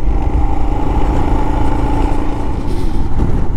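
A Royal Enfield Himalayan motorcycle engine runs steadily and loud on a trail, a continuous close rumble with slight variations in pitch.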